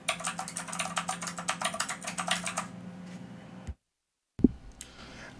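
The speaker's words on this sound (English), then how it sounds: "And background noise keyboard test with the AmpliRocket." Fast computer keyboard typing captured by a FIFINE RGB AmpliRocket microphone, close clicking keys for a few seconds that stop, then a gap of silence and a couple of stray knocks.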